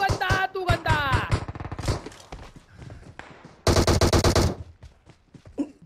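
Rapid bursts of DP light machine gun fire in PUBG Mobile, close and loud, with pauses between volleys and a dense burst near the end, mixed with shorter shots and light thuds, no talk.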